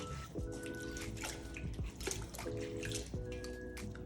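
Water splashing and trickling from a running tap, with irregular drips and gurgles throughout, fairly quiet and close.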